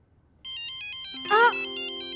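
A mobile phone ringtone plays in a repeating electronic melody indoors, moderately loud and steady, with a brief voice cutting in over it partway through.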